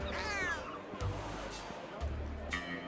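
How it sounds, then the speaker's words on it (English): Angry cats in a turn-based CRPG fantasy game yowl in a rising, strained meow near the start, followed by softer game sounds and faint thuds, while someone talks over it. "There's a lot of angry cats in this area."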